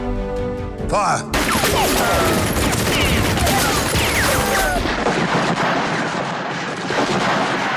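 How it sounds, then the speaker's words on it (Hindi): Rapid gunfire as troops fire on a crowd at the Jallianwala Bagh massacre, a dense, continuous volley of shots and booms that sets in abruptly after a second and rattles on loudly, thinning slightly toward the end. "अंग्रेजों ने उन मासूम लोगों पर दनादन गोलियां चलाई"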